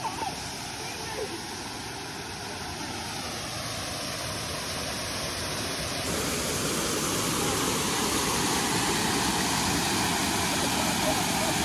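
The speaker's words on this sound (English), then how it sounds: "we can hear the waterfall over there" Waterfall heard outdoors near a river on a summer walk as a steady, loud broadband rushing roar that continues unbroken and grows slightly stronger partway through.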